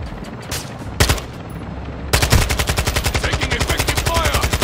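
Video game gunfire: a few single loud shots, then a long rapid burst of automatic fire in an even, fast rhythm, close and dominant.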